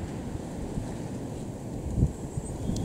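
Strong gale-force wind buffets the microphone with low, rumbling gusts, swelling briefly near the end, at an airfield near Cambridge, UK; no voices.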